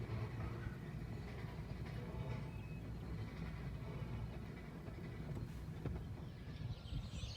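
A Sierra Railroad freight train slows for switching near a siding, heard as a distant, steady low rumble of rolling cars with faint outdoor ambience and occasional bird calls.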